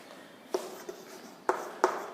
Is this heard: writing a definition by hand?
yes